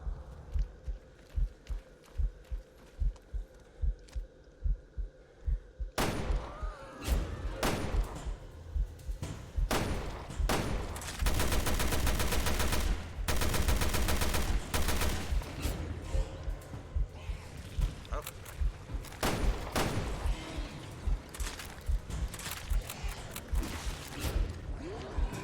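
Gunfire aimed at monsters in the survival-horror game Resident Evil Revelations 2: scattered single shots early, then denser, louder bursts of rapid fire mixed with footsteps and game noise, continuing in irregular volleys.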